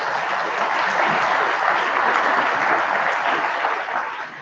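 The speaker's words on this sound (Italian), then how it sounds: "facciamo un applauso." An audience applauds at the close of a talk on honey and pollen plants for beekeeping, a steady, dense burst of clapping that holds for several seconds and tapers slightly at the end.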